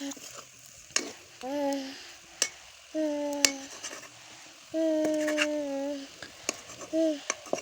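Pork cooks in oil with spices in a pan, crackling and sizzling in bursts alongside occasional utensil clicks, with faint tonal, voice-like sounds in the background.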